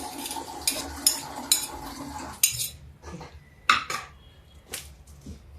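A metal spoon scrapes and clinks against a dish of baingan bharta, a mashed roasted eggplant dish, with a run of rhythmic taps followed by scattered sharper clinks, close and without talk.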